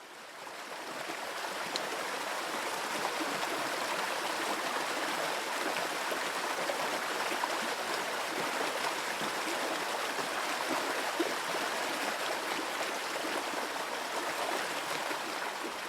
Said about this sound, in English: the therapy of the sound of running water